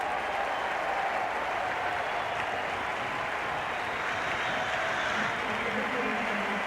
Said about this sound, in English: the crowd giving him a big hand for his half-century